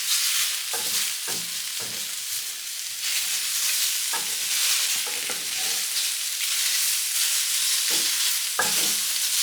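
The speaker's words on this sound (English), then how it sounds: "let's stir everything up." Roasted potatoes being stirred in a hot pan, a constant loud sizzle broken by a series of spatula scrapes and knocks at an irregular pace, very close.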